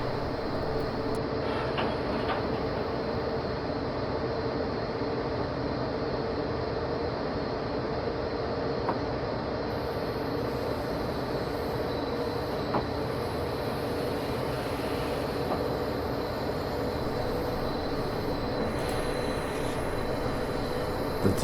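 An ÖBB 1063 locomotive running in Train Simulator on the Tirol Brenner–Kufstein route, with a continuous loud rumbling drone of motors and rolling wheels that holds steady throughout.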